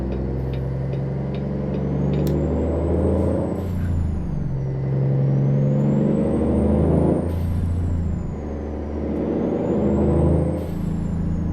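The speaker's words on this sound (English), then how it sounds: "I gotta say, truck sounds great too." A heavy truck engine rumbles close by, rising and falling as it revs through gears, with air-brake hisses and high whining tones recurring.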